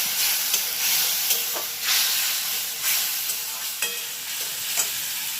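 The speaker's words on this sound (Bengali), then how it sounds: "একটু জল দিয়ে ভালো করে কষাই।" A thick gravy with a split green chili is stir-fried in a pan with a splash of water for a Bengali potol kofta, giving a hissing sizzle broken by repeated scraping stirs of a spatula.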